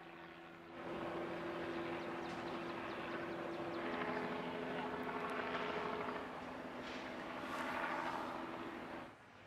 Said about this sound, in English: A TV traffic helicopter is already overhead to film the excitement.